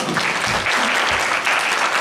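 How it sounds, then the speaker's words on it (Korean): A church congregation claps steadily for about two seconds, a dense, even patter of applause with no voices. "먼저 영선 자매님이신데 그냥 손 한 번만 이렇게 박수 한번 주시겠어요"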